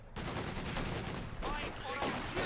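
Dushka heavy machine gun firing in a Soviet-versus-Wehrmacht strategy battle, a steady stream of rapid gunfire bursts mixed with distant explosions and game effects, with a voice talking over part of it.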